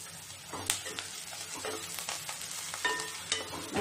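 Pepper chicken fry with curry leaves and coriander sizzling in a pan while being stirred, with loud scraping strokes and spoon clinks over a constant hiss, close up.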